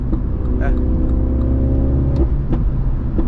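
A 2016 MINI John Cooper Works with a six-speed manual pulling hard in fourth or fifth gear from around 2,000 rpm, a loud steady low engine drone inside the cabin while someone talks over it.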